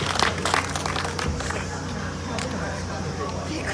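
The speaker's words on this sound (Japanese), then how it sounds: "皆さん大きな拍手お願いします" A crowd applauds at the award ceremony of a drift competition at Fuji Speedway Short Course, a broad wash of clapping mixed with talk over a PA and background bustle.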